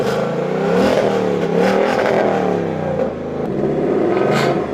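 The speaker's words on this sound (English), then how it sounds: "And of course you have your exhaust here, and I can't lie, it definitely gives off that feel. Let me play it for you." Ford Mustang GT exhaust revs up and settles repeatedly, a deep throaty V8 rumble rising and falling in several pulses, close and loud with no talking.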